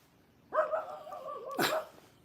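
A dog barks or yips close by, a single drawn-out vocal burst followed by a second sharper one about a second later, heard alone with no speech.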